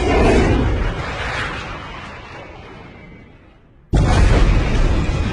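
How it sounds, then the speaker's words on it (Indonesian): A bomb dropped in a war film explodes with a loud, broad roar that slowly decays over several seconds, then a second sharp, loud burst cuts in abruptly near the end. "Dan bom pun dijatuhkan."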